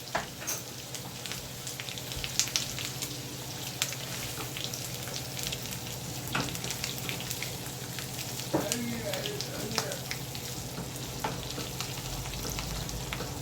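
Eggs sizzle steadily in a pan while a spatula stirs and breaks them up like ground beef. A continuous crackling hiss is broken by scattered scrapes and taps of the utensil, close by and with no talk.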